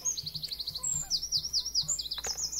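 Rapid high chirps and trills from a bird in the video game Legendary Tales: Stolen Life come in quick bursts, fairly close and clear, over soft low background murmur.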